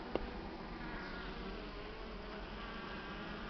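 Honeybees buzzing as they fly out of the hive in winter at minus three degrees, a dense continuous close hum with no talk.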